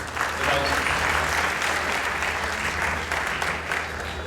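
An audience at a Gujarat Gaurav Divas ceremony claps steadily, a dense, loud wash of applause that holds evenly throughout before easing slightly at the close.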